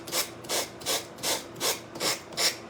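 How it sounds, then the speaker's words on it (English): A small gator finger sander works over a wooden Old Rugged Cross wall hanging in steady back-and-forth rasping strokes, about six evenly spaced passes, close and clear with no talk. "I'm just using my little, I call it the gator finger sander"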